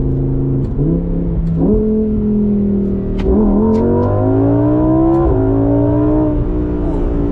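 Lamborghini Huracan EVO Spyder accelerating hard in sport mode, its engine rising loudly and close through several smooth upshifts, each gear climbing in pitch before stepping down.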